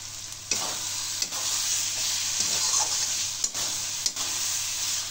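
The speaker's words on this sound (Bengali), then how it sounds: "দিয়ে আবার কষানো শুরু করলাম।" Chana masala with minced meat sautés in a hot pan, giving a loud, continuous sizzle with occasional sharp spatula scrapes as it is stirred, and no talking.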